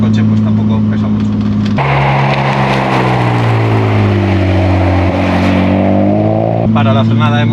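A restored BMW E30 with a swapped M52B28 straight-six drives on a road, its engine droning loudly inside the cabin, rising and falling through long revving sweeps with a shift in the middle, as a voice talks over it.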